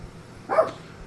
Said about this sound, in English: That's my dog.